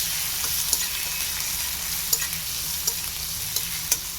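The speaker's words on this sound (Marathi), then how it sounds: "कांदा छान प्रकारचा परतून घेऊया." Chopped onion with garlic sautés in a pan with a steady, close sizzle, broken by occasional sharp clicks of a spoon stirring and scraping the metal, with no talking.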